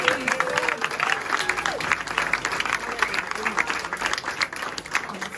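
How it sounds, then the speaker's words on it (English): Crowd at a Belle Vue versus King's Lynn speedway press conference gives a sustained, loud round of applause for the ATPI Aces team, with steady clapping and some voices in the room. "let's have a massive round of applause for our ATPI Aces boys"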